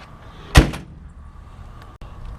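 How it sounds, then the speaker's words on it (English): The passenger door of a 1945 Dodge WC pickup truck from World War II shuts with a single solid, close slam, followed by a quiet pause and a faint second knock. "the doors, look how nice that shuts"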